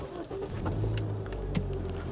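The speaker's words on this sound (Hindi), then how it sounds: "अब एक और गाड़ी करते हैं स्टार्ट।" A Honda Amaze CVT car engine starts from inside the cabin, a brief soft crank followed by a low, quiet idle rumble that stays steady and smooth, with no talking.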